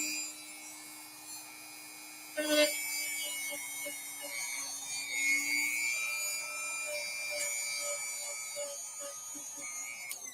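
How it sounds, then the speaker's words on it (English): Dremel rotary tool cleaning a rusty, mold-frozen Featherweight sewing machine, a faint high whine running steadily throughout with brief scraping bursts where the bit bites the metal, no talking. "be real careful with that Dremel as you're cleaning a piece like this"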